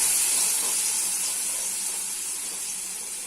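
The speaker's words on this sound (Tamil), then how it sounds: "தக்காளியை இப்ப விடுறேன்." Tomatoes dropped into hot oil already crackling with mustard seeds and asafoetida for tomato pickle, giving a loud, dense, bright hiss of sizzling that fades slightly over a few seconds.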